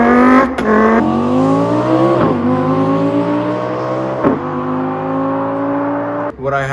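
A man vocally imitates an Audi R8 V10 engine with fast dual-clutch shifts, voicing a buzzing, rising rev that drops abruptly at each quick upshift, several times in a row, loud and close.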